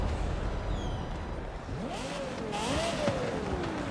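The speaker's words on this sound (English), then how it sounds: "But I really like the sound of this car, the LFA. With the Yamaha motor, the V10. This thing screams" Lexus LFA with its Yamaha-built V10, a stock car in Forza Horizon 5, revving in rising and falling sweeps that climb into a high-pitched scream, moderately loud over a steady rumble.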